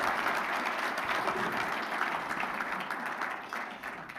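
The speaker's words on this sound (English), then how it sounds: "please join me on another round of applause for Michelle Moore" Audience applause at the close of a keynote address in Wisconsin, a steady wash of many hands clapping that fills the whole stretch and fades slightly toward the end.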